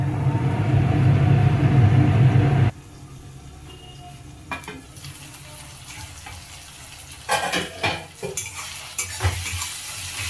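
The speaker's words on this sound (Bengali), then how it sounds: "পেঁয়াজটা আমাদের অনেকটাই ভাজা ভাজা হয়ে গেছে" Onions fry in a pan for a low-oil egg curry: a strong, steady sizzle at first, then a quieter hiss broken by stirring scrapes and occasional clinks of a utensil against the pan.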